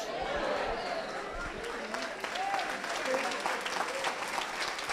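A church congregation applauds in a sustained, even wash of clapping, with murmured voices and chatter mixed faintly underneath.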